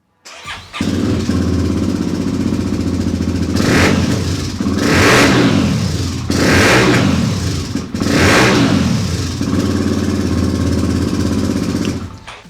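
A 250 motorcycle engine with an aftermarket exhaust starts up and idles loudly up close, then is blipped through several sharp revs that rise and fall back to a rumbling idle.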